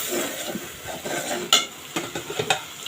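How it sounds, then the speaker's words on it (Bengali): Spices with cumin powder are sautéed in a pan for a bottle gourd and prawn curry, with close sizzling and irregular scraping strokes of a spatula, plus a few sharper metal knocks and no talk. "একটু জিরে গুঁড়ো দিব। এটা এখন আমি খুব সুন্দর করে কষাই নিব।"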